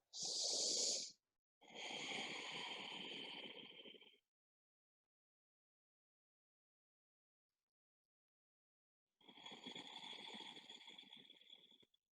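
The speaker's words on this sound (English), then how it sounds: "Let's just take 5 more rounds of breath." Slow, deep yoga breaths come in three long, soft, close breathy passes: a short sharp intake, a longer exhale, a long silent pause, then another drawn-out breath.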